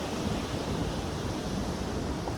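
Steady, close rush of ocean waves and surf around someone in the sea, a continuous broadband wash with no clear breaks, heavy wind-like noise filling the sound.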